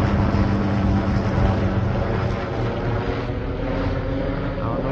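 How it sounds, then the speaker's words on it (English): Helicopters passing back and forth overhead near the state capitol in Des Moines, Iowa, giving a loud, continuous rotor drone that holds steady and fades slightly toward the end. "Where's that helicopter going?"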